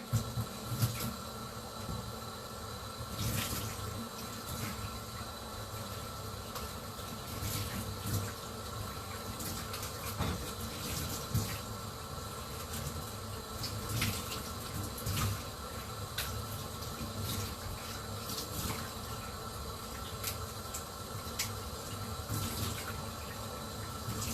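Water from a kitchen tap runs steadily into a sink while something is rinsed and rubbed clean under the stream, a constant close wash with small splashes and no talking.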